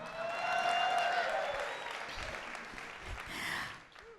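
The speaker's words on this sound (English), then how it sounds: "He deserves a special round of applause for that incredible, very tight teleprompter read." Applause from an awards show audience fills the room, a moderate, fairly distant wash of clapping that swells early, fades, then rises briefly again before dropping away.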